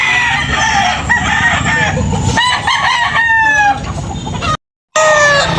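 Roosters at a fighting-cock sale in Tabunok, Talisay, where white Kelso gamecocks are offered, crow loudly and repeatedly up close, overlapping calls with a crowd murmur beneath and a brief cut to silence near the end.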